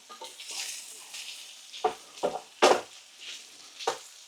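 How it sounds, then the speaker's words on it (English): Mushrooms fry hard and fast in a hot pan, giving a steady sizzle broken by several sharp crackles and clatters as they are stirred. "you need to sort of fry the mushrooms hard and fast"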